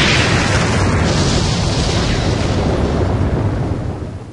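A massive in-game explosion from Mega Man Legends as a ship is abandoned, a loud sustained roaring blast with rumbling low end that holds steady for several seconds before fading at the end, with no talk over it.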